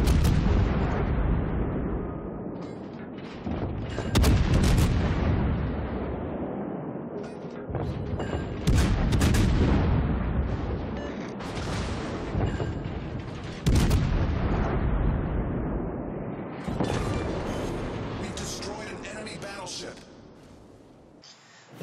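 A Des Moines heavy cruiser in a naval video game fires its fast-reloading guns in rapid booming salvos, loud repeated blasts every few seconds with rumbling tails, while a voice talks over the action.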